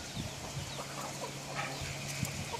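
Chickens cluck in a farmyard flock around feeding time, with scattered short calls over a steady low hum and background noise, no talk.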